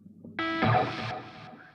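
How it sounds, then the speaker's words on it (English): Game audio in Marvel Future Fight run through a distortion effect: a sudden gritty, buzzing burst with stacked harsh harmonics that holds for about a second, then drops to a thinner tail and cuts out. "Do we want a bit of distortion here now?"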